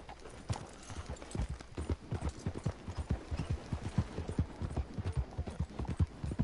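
Horse hooves clip-clop steadily on the ground in Red Dead Redemption 2, a close, even rhythm of many hoof strikes with faint background ambience.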